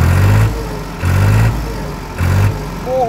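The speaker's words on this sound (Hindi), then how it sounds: "बहुत ही एक्टिव इंजन है, बहुत ज़बरदस्त पिकअप बोलते हैं।" A New Holland tractor engine revs in three heavy bursts, each about half a second long, with a steady low idle rumbling between them.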